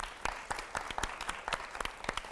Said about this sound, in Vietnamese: Mong các bạn hãy cổ vũ cho các bạn ấy một tràng pháo tay thật